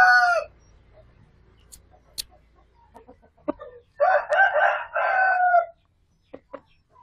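A five-month-old Ayam Bangkok rooster crows in a short opening burst, then gives a longer, louder crow midway, with scattered clucks and small clicks between in a quiet coop.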